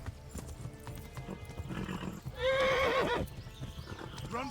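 A horse in the game Kingdom Come: Deliverance gallops with rhythmic clip-clopping hooves, then lets out a loud, wavering whinny midway before the hoofbeats carry on.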